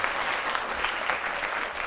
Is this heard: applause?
yes